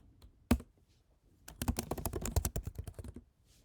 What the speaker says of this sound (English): In here, let's type in help.